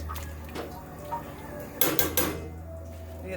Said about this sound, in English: Put the cover on and we're going to let this simmer for 3 hours.